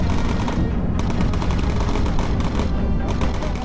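Rapid machine-gun fire rattles continuously in the Bomber Crew video game, loud dense bursts one after another with brief dips in intensity.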